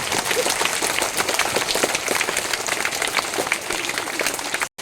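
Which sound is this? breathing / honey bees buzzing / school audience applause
school audience applause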